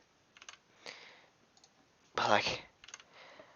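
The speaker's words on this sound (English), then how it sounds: "I accidentally pressed the C button again." Computer keyboard keys pressed while playing a FNAF game, heard as scattered light clicks, a few isolated taps followed by a short flurry of louder presses, with a brief bit of speech in between.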